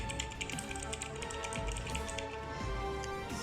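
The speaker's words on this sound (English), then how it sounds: "So hear the sound of the clicks and typing again." Fast typing on a T-Dagger Bora TGK315 mechanical keyboard, a dense stream of crisp, close key clicks in an uneven rhythm with no voices.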